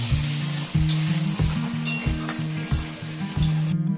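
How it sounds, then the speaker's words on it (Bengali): Water hitting a pan of frying okra curry, a loud close hiss and sizzle with repeated bursts as it bubbles, over a low steady hum. "চলুন গাইস, এবার এর মধ্যে একটু জল দিয়ে দেবো।"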